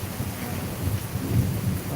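Heavy rain falls during a thunderstorm, a dense hiss of drops with a low rumble of thunder rolling underneath, steady and moderately loud for two seconds with no voices.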